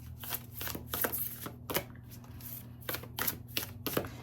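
Tarot cards being shuffled and drawn, giving close, crisp flicks and soft slaps in an irregular rhythm over a faint steady hum.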